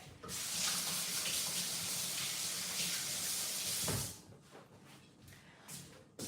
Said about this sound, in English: let me rinse my fingers off real quick